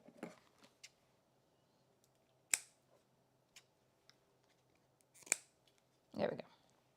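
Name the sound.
scissors trimming paper pieces for a scrapbook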